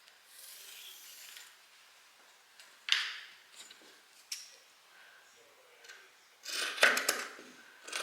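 Scissors snip through fabric for a pyjama top and shorts in a quiet room, with faint rustling and a few sharp, separate cuts, the loudest cluster near the end.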